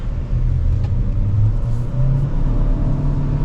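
A 2025 Chevrolet Equinox RS FWD with a turbocharged engine and CVT accelerating on a test drive, a steady loud low engine drone and road rumble heard from inside the cabin without any talk.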